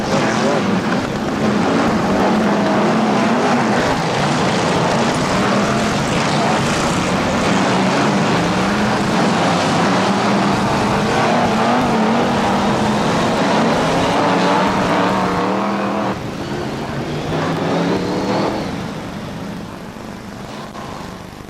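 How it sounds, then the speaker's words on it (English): Formula 2 stock cars racing at Northampton International Raceway in 1996, engines roaring loud and continuous under a dense wash of crowd and track noise, fading slightly toward the end. "the prestigious Formula 2 Stock Car World Championship final"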